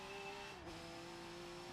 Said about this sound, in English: this is me racing the Altima